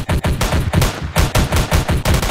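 Rapid automatic gunfire from the Roblox shooter Incursion, loud, close bursts of shots in a steady rattling rhythm with brief gaps, no voices.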